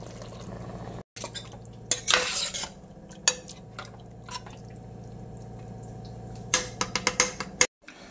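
Marinated chicken being stirred into masala in a pot, with intermittent wet clinks and scrapes of a spoon against the pot, sharp clusters of knocks over a steady low background.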